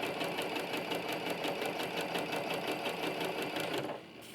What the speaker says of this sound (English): I'm going to approach it and then pull it out and stitch.